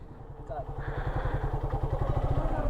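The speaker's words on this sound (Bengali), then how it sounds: "বাইক যায়" A motorcycle engine putters steadily nearby on a Mirinja Valley road, Bangladesh, with a rapid low thumping rhythm, growing slightly louder as it passes.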